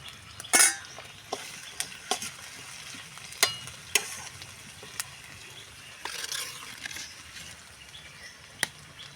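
Potatoes and onions frying in a pan with cumin, ginger, turmeric and garlic added, a quiet sizzle broken by sharp clinks and scrapes of a spatula against the pan, no voices.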